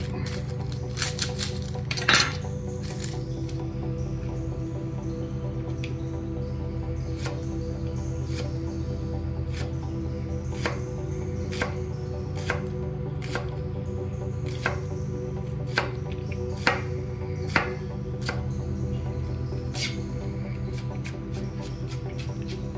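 A knife chops a shallot on a cutting board, giving a steady run of sharp, close taps spaced irregularly about a second apart over a low kitchen hum, with no talking.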